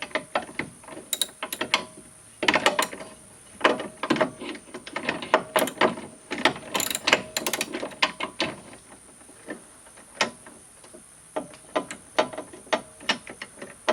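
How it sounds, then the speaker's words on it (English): Ratchet clicking while a rear bumper is fastened onto a Polaris Ranger utility vehicle, with dense bursts of rapid metallic clicks in uneven strokes, close and fairly loud, and no talking. "This one is a little bit harder to screw on."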